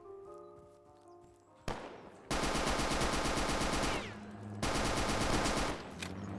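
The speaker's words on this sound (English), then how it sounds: "I do like the gun sounds though." Bursts of rapid automatic gunfire from the video game Wolfenstein, loud and dense, starting after a quieter stretch with steady tones and dropping out briefly before resuming.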